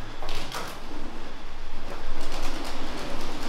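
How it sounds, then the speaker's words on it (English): Pigeons flutter and shuffle inside an abandoned disco, a steady rustling wash with brief wing-flap bursts at moderate distance and no voices. "A lot of pigeons up here."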